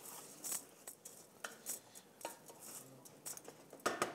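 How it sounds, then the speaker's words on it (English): Dry red lentils being stirred into a pot with a utensil, giving a run of light scraping, clinking strokes with a brighter burst of rattling near the end, fairly quiet and close, no talking. "I'm going to eyeball that and stir it in there"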